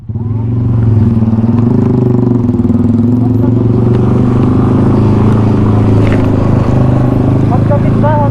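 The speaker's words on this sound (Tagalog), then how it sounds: "Honda Beat ba? Honda Beat?" A Honda Beat scooter engine idles and runs steadily close by, a continuous low droning hum with some clatter over the full length, while people talk over it.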